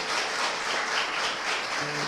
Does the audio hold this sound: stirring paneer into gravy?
no